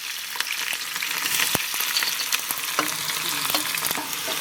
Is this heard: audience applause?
no